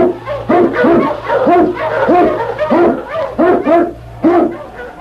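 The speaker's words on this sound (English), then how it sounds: "King, the swiftest, strongest of Eskimo lead dogs, blazes the trail through storm and snow" An Eskimo lead dog in the snowy Yukon barks loudly and repeatedly in quick, rhythmic bursts, close and dominant, with a low hum running beneath.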